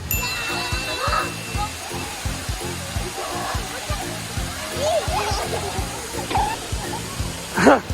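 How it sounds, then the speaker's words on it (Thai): A waterfall roars as a broad, steady rush of falling water, with people talking over it and a few brief sharp sounds near the end. "ถึงแล้วนะครับน้ำตก"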